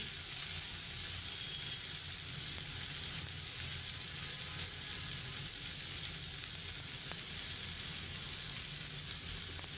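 Softened onion frying with turmeric and coriander-cumin powder in a pan, a dense, even sizzling hiss that stays steady and close throughout, with no talk.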